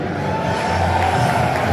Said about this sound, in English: Got the whole crowd.